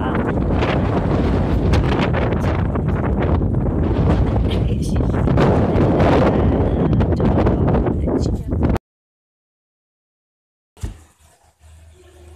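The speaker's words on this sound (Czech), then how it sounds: "tady vítr jako prase" Strong wind buffets the microphone outdoors in a loud, continuous roar for several seconds, then cuts to silence, followed by a brief quieter gust.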